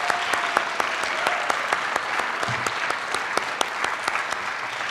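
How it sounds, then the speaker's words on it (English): Audience applause for Craig at an adult faith formation gathering, a steady wash of many hands clapping with sharper individual claps popping out, sustained for about five seconds at even loudness. "Have a round of applause for Craig."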